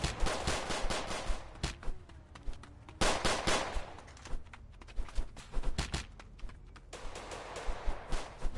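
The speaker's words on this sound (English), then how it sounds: "who's shooting at you, gang?" Rapid bursts of gunfire in the Roblox game, with quick repeated cracks and several automatic volleys broken by short pauses, loud and close.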